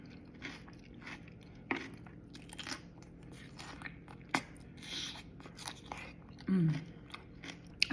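Crisp crunching bites into a cucumber boat topped with ricotta, onions, jalapeño, avocado and hemp seeds, heard as several close, sharp chomps followed by chewing, ending in one louder chewy burst.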